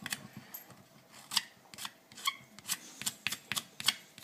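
A blade scrapes in short, repeated strokes along a Pro-Line Trencher 2.8 RC tire, clearing excess material, each crisp rasp arriving in quick bursts close up with no talking.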